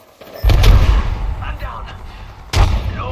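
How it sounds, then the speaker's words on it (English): Gunfire in Apex Legends, loud booming shots in two bursts with a gap between them. "I am taking fire, friends."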